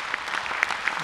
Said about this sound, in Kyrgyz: мына жигит кол чаап койсоңуздар